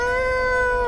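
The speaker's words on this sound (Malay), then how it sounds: "Macam ni bunyi dia. Macam kucing nak bergaduh." A sustained, tonal cat-like wail rings out loudly and steadily for under a second, like cats yowling before a fight, heard alone without talk.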